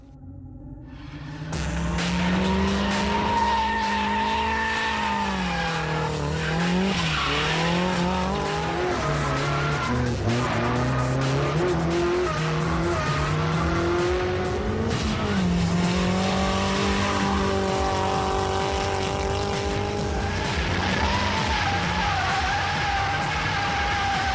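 A drift car slides continuously for about twenty seconds, its engine tone rising and falling through throttle changes while tire squeal runs alongside, loud and close, with no talking.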